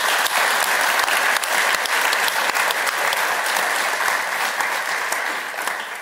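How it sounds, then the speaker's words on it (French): A conference audience at a team keynote gives loud, dense applause that carries through the whole stretch and eases off slightly at the end, with no talking over it. "On peut les applaudir parce qu'à chaque fois, ils font un super truc."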